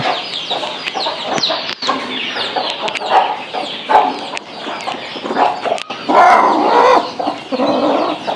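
A hen clucks repeatedly beside newly hatched chicks, her close, loud calls mixing with faint peeping and small knocks throughout, with no voices.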